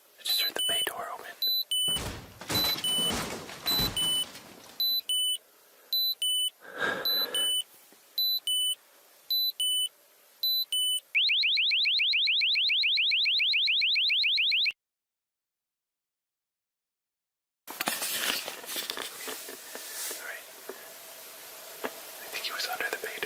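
An RV security alarm goes off at a campsite in the dark, with repeated short electronic beeps, then a long continuous warbling tone, then silence before muffled noise and whispered talk.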